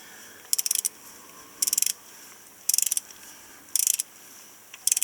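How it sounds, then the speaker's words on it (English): A ratcheting torque wrench tightens the center bolt on the AISIN 8-speed gearbox of a 2016 BMW X1 F48, with five short bursts of rapid clicks spaced about a second apart, close and crisp with no voices. "I'll torque the center bolt to 8 Newton meters"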